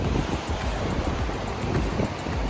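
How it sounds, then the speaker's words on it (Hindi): Fast-flowing mountain river water on the road from Leh toward Khardung La and the Nubra Valley makes a steady loud rushing roar, close and unbroken throughout, mixed with wind noise. "देखो कितनी तेज बहाव है भाई पानी का"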